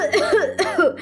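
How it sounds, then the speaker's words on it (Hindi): Several people coughing in a house filled with sharp chili fumes, two bursts of harsh, close coughs in quick succession, loud and clear with no talk. "अचानक ही पूरे घर में मिर्ची की धसक हो गई और सभी खांसने लगे।"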